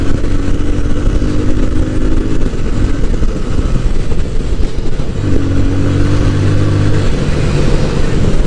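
A V3 motorcycle is ridden with its engine droning loud and close, and the pitch rises and holds in two steady surges under heavy wind rush. No talk is heard.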